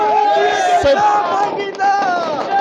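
Party workers cheer and shout at Nitesh Rane's arrival, a loud crowd of overlapping voices and cries that stays close and keeps going throughout.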